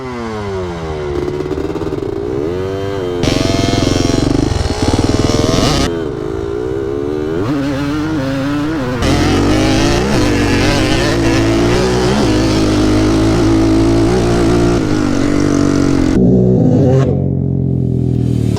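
Two quads, a Yamaha Raptor 700 and a Predator 560, rev hard in a roll race; loud, close engine roar climbs and shifts through the gears with sustained, unbroken revving and no talk.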